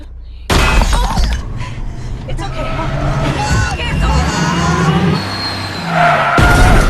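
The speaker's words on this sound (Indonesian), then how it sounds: "tiba-tiba sosok alien atau monster langsung menghantam mobil yang berada di depan mereka" A monster slams into the front of a car in the film A Quiet Place Part 2, bringing a loud burst of crashing metal and shattering glass, followed by continuous scraping, rumbling chaos with whining tones, all very loud and close.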